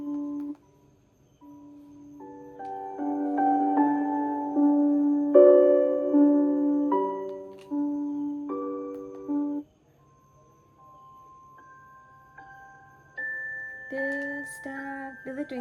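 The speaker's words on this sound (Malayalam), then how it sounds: "ഇത് ട്വിങ്കിൾ ട്വിങ്കിളിൻ്റെ സൗണ്ടാണ് കേട്ടോ. മ്യൂസിക്കാണ്." A Zello white noise machine plays a Twinkle Twinkle lullaby, clear tinkling melodic tones in a gentle chime-like timbre, phrased in short runs with a brief pause midway before the tune resumes.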